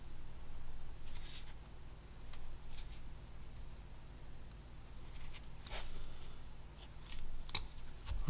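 A knife whittles a V cut into a piece of wood, giving several short, quiet scraping strokes close by, spaced irregularly over a soft background.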